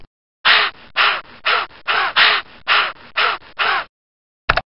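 Cartoon-style bird calls from a children's alphabet game sound as eight loud, harsh cries in a quick regular sequence, followed by a brief pause and one short clipped call.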